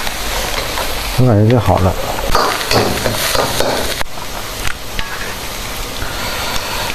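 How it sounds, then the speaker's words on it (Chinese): Cucumber stir-fried in a wok with scallions in a rural home kitchen, a steady loud sizzle with scraping stirs running throughout while someone talks over it. "咱得炒一会儿啊，就把黄瓜给它炒好了"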